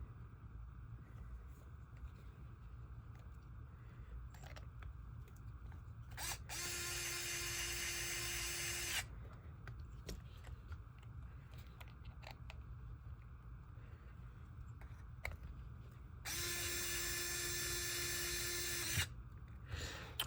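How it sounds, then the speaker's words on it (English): Two bursts of a small power tool driving screws while mounting a motor in a 1/10 scale RC base camp, each a steady buzzing whir lasting a few seconds, close and fairly quiet, amid faint handling clicks. "and put these screws back in"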